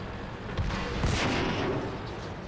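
Tank cannon fire from the World of Tanks game, tier 6 German VK3601H medium tank battle: a loud booming shot over dense, continuous battle rumble and noise, with no talking.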